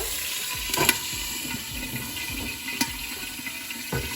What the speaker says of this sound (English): Once the mustard seeds are popping, go ahead and add your Hing or Asafoetida.